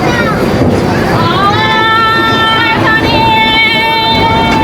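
A 2000 series diesel locomotive passing close by, a loud, continuous engine drone whose tone rises and then holds steady, with voices faintly present underneath.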